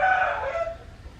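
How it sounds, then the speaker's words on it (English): A rooster in a barn lets out the tail of a crow, a loud, close, drawn-out call that fades over about a second, with no talking. "Such a nice rooster."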